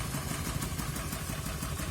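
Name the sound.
Honda Vario Techno scooter engine idling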